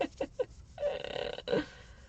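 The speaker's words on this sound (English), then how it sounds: "I got the hiccups all of a" A person gives a few short, sharp hiccup-like bursts in quick succession, followed by a longer voiced sound, close and fairly loud with no other talk.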